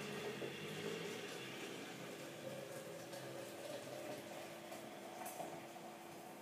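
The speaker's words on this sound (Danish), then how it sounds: "Nu har jeg hældt vandet ned i her, så skal den lige stå og trække lidt kaffen." Hot water is poured over coffee grounds while making a caffè latte, giving a steady, quiet, hissing trickle that continues evenly throughout without talk.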